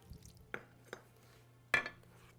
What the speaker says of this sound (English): I'm going to mix this together with a spoon